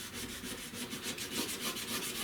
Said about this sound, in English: I'm gonna just use the 600. And I'm gonna just sand this down